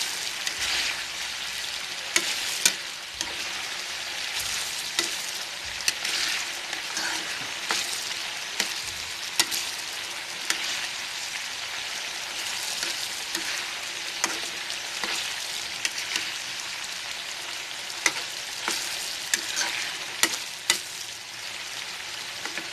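Corned beef deep frying in plenty of oil, a steady loud sizzle and crackle running throughout with occasional sharper pops and stirring clicks.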